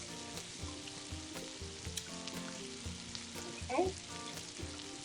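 Spiced tofu and vegetables sauté in a pan with a steady, close sizzle and occasional stirring scrapes; a voice speaks briefly once.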